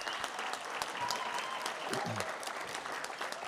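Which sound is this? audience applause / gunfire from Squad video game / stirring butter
audience applause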